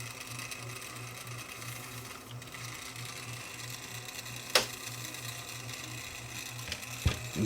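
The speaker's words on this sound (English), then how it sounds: "If I turn it on, we'll see the flywheel start to rotate." Grundig TK747 reel-to-reel tape recorder running at its slowest speed, 1 7/8, with the flywheel spinning: a steady low pulsing motor hum with faint mechanical whir, then a couple of sharp clicks near the end.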